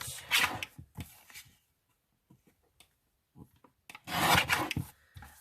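Paper being marked and trimmed for a mini junk journal, with two loud bursts of rasping cutting or rubbing strokes at the start and end and soft, sparse handling sounds in between.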